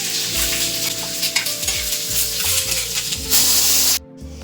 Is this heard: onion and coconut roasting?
yes